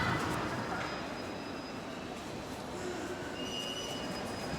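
A fast train rushes past in Xi'an, China, with a steady, loud broadband roar of rolling wheels and rail noise, with faint high squeals on top; no talking.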